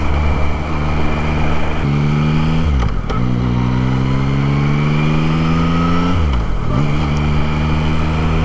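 A 2024 Yamaha MT-09 motorcycle on a break-in ride, its engine pitch climbing steadily through two long pulls, each dropping sharply at a gear change before rising again, loud and close with wind noise, no talking.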